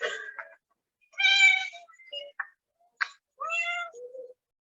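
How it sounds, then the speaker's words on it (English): Several cats meow in a quiet indoor room, with about four distinct, clear, fairly close calls separated by short pauses. "there is some cats invaded my area"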